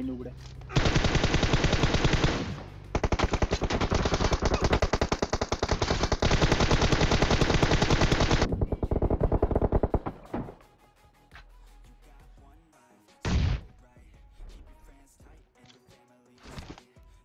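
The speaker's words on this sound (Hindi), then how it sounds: "ये जो गोलियों की आवाज़ आ रही है ना" Rapid, loud bursts of automatic gunfire in a video game roar almost continuously for several seconds, then fade to sparse distant shots with one sharp blast later.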